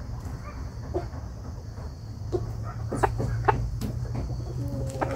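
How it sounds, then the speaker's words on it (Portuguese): A barred mini Cochin hen makes a few soft, scattered clucks against a steady low background hum, fairly quiet and close. "Uma fêmea barradinha mini coxin."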